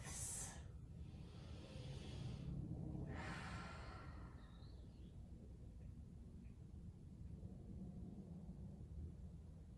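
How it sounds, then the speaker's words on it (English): Long, slow, deep breaths during a Pilates session: two clear airy exhalations close to the microphone, then quieter breathing over a low background hum. "Couple of long, slow,"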